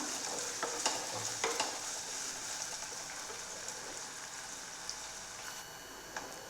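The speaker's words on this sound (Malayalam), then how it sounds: "എന്നാലും കുറച്ചൊന്ന് വഴറ്റിയെടുക്കാം" Chopped onion sautéing in a pan sizzles continuously at close range, with occasional scraping taps of stirring over the steady hiss.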